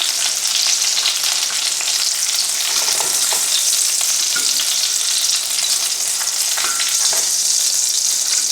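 Pork chops fry in hot oil in a pan, giving a steady, loud, dense sizzle with crackling pops throughout and no talking.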